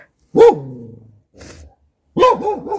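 A neighbour's dog barks at close range: one bark with a whining tail, a softer short yelp, then a wavering howl-like bark, loud and alone.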